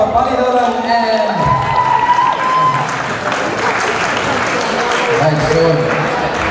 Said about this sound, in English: Can I please hear a huge round of applause for Pali Dharam and...